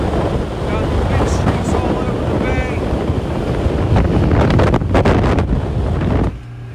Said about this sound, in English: Got the wind streaks all over the bay. It's really, really choppy.